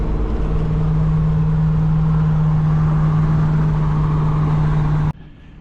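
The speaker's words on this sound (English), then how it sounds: "We're cruising the Blazer, cruising it, no trailers allowed." A Chevrolet Blazer cruises along the road with a steady, droning engine and road hum heard from inside, continuous and loud, then abruptly cutting to quiet near the end.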